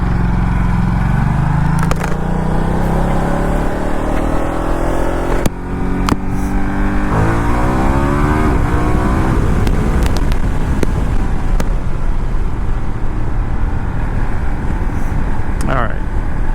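Motorcycle engine revving during spirited riding, loud and steady throughout with wind rush over the microphone, rising and falling pitch sweeps as the rider accelerates and shifts.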